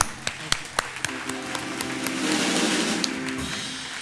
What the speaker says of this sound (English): please join me in another round of applause for everybody